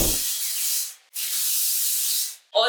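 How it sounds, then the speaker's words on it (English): Two long bursts of hair shine spray hiss from an aerosol close to the microphone, separated by a short pause, with another burst beginning at the end. "I'm just spraying on the Radiant Spray by BBlunt"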